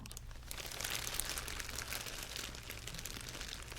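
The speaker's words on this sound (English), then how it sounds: "do an episode that is just paper crinkling and rustling and that kind of thing" Soft, continuous paper crinkling and rustling close by, steady and fairly quiet with small crisp crackles throughout.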